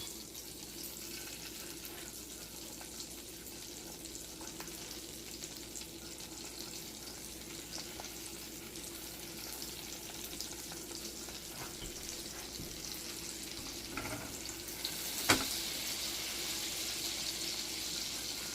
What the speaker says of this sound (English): I'm going to start adding the stuffed onions, seam side down.